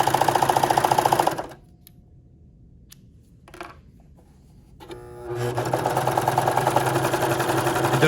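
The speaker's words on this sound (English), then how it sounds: "Serge all 4 edges. Speed through this really quick." A serger sewing machine runs fast as it overlocks fabric edges, a loud rapid mechanical whir that stops for a few seconds of near silence, then starts up again and keeps running.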